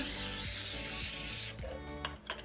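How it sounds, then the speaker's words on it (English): A continuous aerosol hiss of Pam cooking spray onto a cutting board for about a second and a half, then stops, followed by a few soft rubbing and handling noises. "take a cutting board or a countertop, whatever, spray it down with Pam"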